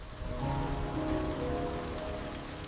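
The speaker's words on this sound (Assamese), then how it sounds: "এই বৰষুণে" Steady rain falls across a surface in an even, close hiss, with no voices over it.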